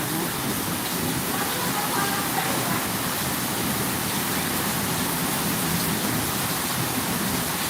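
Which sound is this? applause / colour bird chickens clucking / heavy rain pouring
heavy rain pouring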